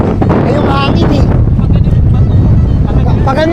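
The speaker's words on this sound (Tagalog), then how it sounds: "Ay, yung hangin eh." Gusty wind buffets the microphone continuously outdoors near the water on the coast at Margaret River, a steady low roar with voices talking over it.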